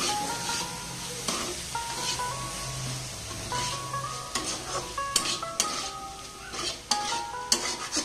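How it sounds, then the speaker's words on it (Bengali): Whole spices fry in hot oil in a pan while cooking a taro (kochu) dish, giving a steady close sizzle with occasional stirring scrapes and clinks over background music. "সুন্দর করে ভেজে নিতে হবে মশলাটাকে, যেন গন্ধ না এসে।"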